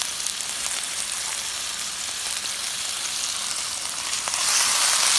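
Shrimp cut into small bites sizzle steadily in a pan for fried rice, a continuous close frying hiss that swells louder near the end, with no talking.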